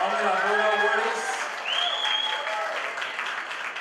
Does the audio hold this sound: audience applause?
yes